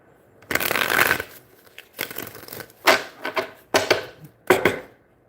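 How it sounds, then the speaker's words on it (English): Tarot cards are shuffled in several separate bursts, each a crisp riffling flutter lasting about a second, close and fairly loud with short quiet gaps between. "Give me one more shuffle."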